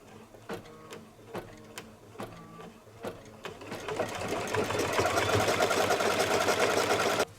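A computerized embroidery machine stitches a potholder, starting with a few separate rhythmic clattering bursts, then settling into a steady fast mechanical whir of continuous stitching, close and clear, with no talking.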